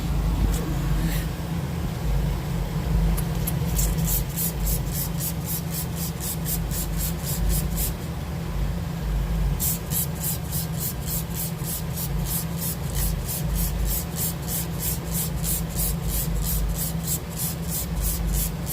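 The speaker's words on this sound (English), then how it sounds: "I'm gonna spray these tires down because they are filthy" Water sprays onto the filthy tires of a Chevy truck in a steady hiss, broken by a rapid rhythmic pulsing pattern that stops briefly midway, over a low engine-like hum.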